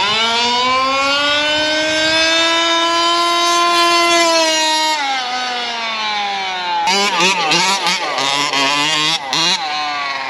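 A large-scale RC truck drives with a loud, steady motor whine that holds pitch, dips, then breaks into choppy, wavering revs as it turns and accelerates.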